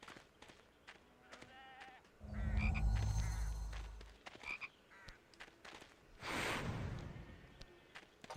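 A chocolate frog croaks in the Harry Potter and the Chamber of Secrets PS2 game, with repeated low throaty croaks and a rumbling thud amid game music and effects, followed by a whooshing swell.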